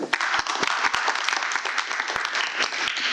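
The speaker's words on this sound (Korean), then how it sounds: "박수 한번 보내주십시오" Audience at a talk concert on global education applauding a KAIST materials science department head, with dense clapping marked by sharp individual claps standing out near and clear throughout.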